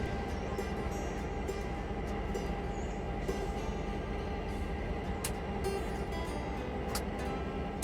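Passenger train running in the video game Railroader, a steady rumbling roll with faint wheel clicks and a few sharp metallic ticks, continuous throughout.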